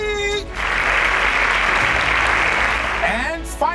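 Studio audience applause at a competition show for a semi-finalist, a dense burst of clapping lasting about three seconds, with a host talking just before and after.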